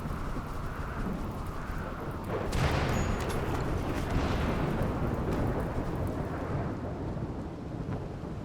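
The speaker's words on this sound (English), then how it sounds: "Somebody just get hit with lightning." Thunder rolls and rumbles over continuous heavy rain during a thunderstorm in the RimWorld video game, with the booming swelling midway after a lightning strike, loud and unbroken with no talking.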